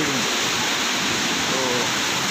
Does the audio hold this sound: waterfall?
yes